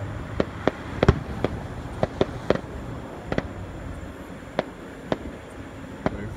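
Fourth of July fireworks bursting outdoors, a dozen or so sharp distant pops and cracks spaced irregularly over steady background noise, with no talk.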